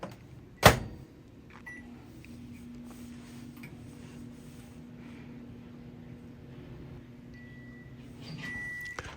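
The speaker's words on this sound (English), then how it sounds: "So here I'm putting it in a microwave." Microwave oven drying a fiber-based photo print: a sharp door clunk, then a steady low mechanical hum running alone, ending with a brief beep and a rattle.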